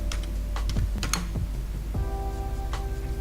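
Keystrokes on a computer keyboard as a trading PIN is entered: a short, uneven run of close, crisp taps and clicks spread over about three seconds, with no talking.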